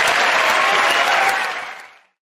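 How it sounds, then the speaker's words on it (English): Studio audience at a British comedy panel show bursts into loud, sustained applause that fills the room, then fades out after about two seconds with no talking over it. "Give a round of applause to everyone there."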